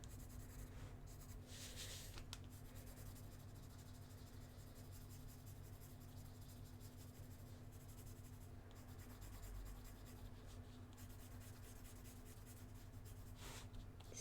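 A colored pencil glides lightly over smooth paper at an angle, a soft continuous scratching with a few brief louder strokes, faint and close, with no talking.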